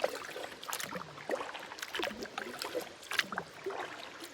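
Solo paddling of a canoe on Lac Ostobanique in Zec Kipawa: soft, irregular splashes and drips of water from the paddle strokes, fairly close, with no talking.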